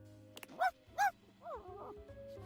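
A small dog in the dating game Date Everything gives two short yips close by, followed by softer whimpering whines over a quiet background hum.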